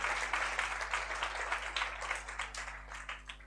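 A church congregation at a Pentecost testimony Sunday service claps in applause, a brief burst of many hands that stays moderately loud for a few seconds before tapering off, with no speech over it.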